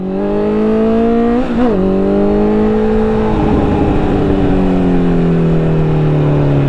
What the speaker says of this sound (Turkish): Egzoza bak bak.